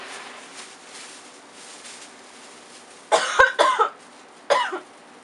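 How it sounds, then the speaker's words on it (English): A person coughs in three sharp bursts, a quick pair followed by a single cough, close and loud after a few seconds of quiet room tone. "Let me cough again."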